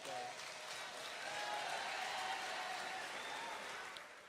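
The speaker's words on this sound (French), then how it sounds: "Mesdames et messieurs, on applaudit très fort," An audience at a talent show quarter-final applauds, making a faint, distant wash of clapping that holds steady for a few seconds before tapering at the end.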